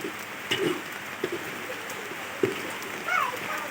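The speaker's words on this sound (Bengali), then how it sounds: "আবার এখন বৃষ্টি নেমে গেছে" Rain falls steadily outdoors as a soft, even patter, fairly faint, with a few brief drips and a distant bird call over it.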